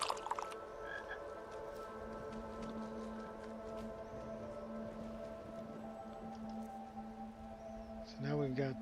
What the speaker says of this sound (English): Watch out for the frogs.